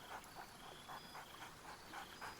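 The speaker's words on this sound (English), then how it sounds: "Scratch barks merrily in something like agreement." A dog companion in the video game Baldur's Gate 3 gives a rapid series of soft, muffled barks and yips with light whining between them, quiet and steady over faint ambient hiss.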